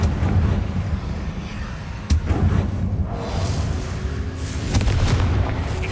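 Confringo blasting spell bursts in the Hogwarts Legacy video game: a sharp crack followed by later booming impacts over a continuous roaring, rumbling background, loud and near.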